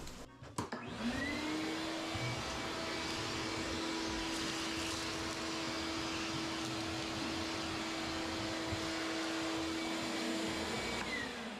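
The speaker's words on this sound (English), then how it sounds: "I'm gonna vacuum that up." A vacuum cleaner runs steadily through bedding in a guinea pig cage, a loud continuous motor whine that spins up after a click and then holds at a constant pitch.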